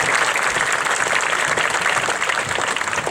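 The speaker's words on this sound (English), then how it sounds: "That's good applause, right?" A graduating high school class applauding at their 2022 ceremony, dense continuous clapping from a large crowd, loud and close throughout.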